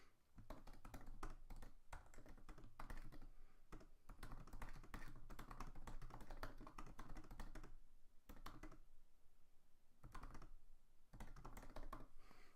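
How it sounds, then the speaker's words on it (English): Computer keyboard typing in quick, irregular bursts of close key taps, with short pauses between runs of random words, running alone at a steady moderate level. "just typing random words here."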